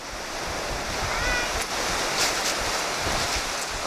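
Ocean surf washing and breaking onto a beach at Jamestown, a steady loud rushing roar with wind buffeting the microphone, continuous throughout with no talk.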